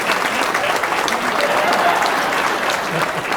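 Sustained audience applause at a solo Hindi poetry performance, dense steady clapping from a crowd filling the whole stretch at an even loudness.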